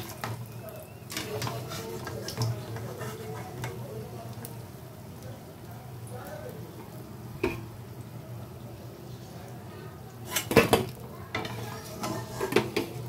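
Light metallic clinks and scrapes of utensils against a pan as fried snacks are lifted out one by one, over a low background hum, with a small burst of clatter toward the end.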